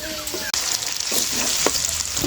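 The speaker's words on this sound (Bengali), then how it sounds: "মাংসটা খুব ভালো করে কষিয়ে নিয়েছি, এইবারে দিয়ে দেবো সেদ্ধ করে রাখা ডাল।" Boiled red lentils go into a pan of sautéed chicken, which is frying. A steady, loud sizzle and bubbling runs throughout, broken early by a single sharp clack.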